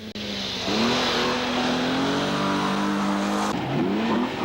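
Rally car racing on a dirt forest stage in Woodford Forest, its engine revving loud and close and holding a steady high drone, with a brief dip and surge near the end, no voices.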